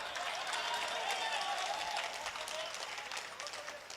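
An audience at a Hindi romantic poetry recital claps steadily, a full, continuous round of applause that fades slightly toward the end, with faint voices underneath.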